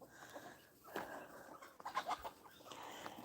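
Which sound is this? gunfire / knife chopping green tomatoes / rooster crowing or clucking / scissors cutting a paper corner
rooster crowing or clucking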